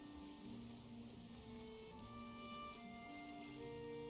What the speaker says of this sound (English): At least the rain seems to be lightening up.